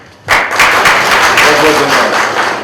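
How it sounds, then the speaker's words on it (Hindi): A seminar audience at the inaugural session of a leadership program breaks into loud, dense applause that starts abruptly and holds steady, many hands clapping close together before easing slightly at the end. "तालियां जब बजाने का मौका मिलेगा तो जरा जोर से जोश से बजाइए।"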